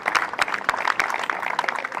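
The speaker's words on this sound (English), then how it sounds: "one last round of applause for our 2023 finalists and our reigning champions" Applause rings out for the 2023 wheelchair tennis men's doubles finalists and champions at the NEC Wheelchair Masters, a steady crowd clapping with a few sharper individual claps standing out over two seconds, with no voices.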